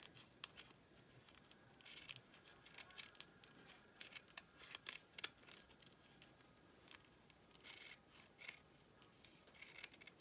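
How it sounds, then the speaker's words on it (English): Scissors snip through fabric to cut out a collage shape, a series of quiet, close, irregular crisp cuts and rustles with no talking. "And cut the correct shape out again."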